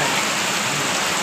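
Heavy rain pours down in Surat, a dense, steady broadband hiss of water striking surfaces, close and continuous with no voices.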